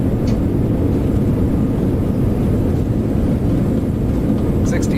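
Simulated Boeing 737-600 engines roaring in reverse thrust during landing rollout in X-Plane 11, a loud, dense, steady low rumble throughout with a faint voice underneath.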